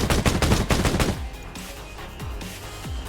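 Rapid automatic gunfire from a video game rattles loudly for about a second, then several single shots and faint pops follow at a distance.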